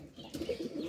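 Pigeons cooing inside a pigeon loft, a soft low rhythmic burbling that swells in several overlapping coos close by, with no talk.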